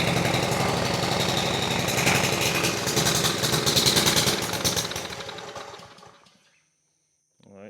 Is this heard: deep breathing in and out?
no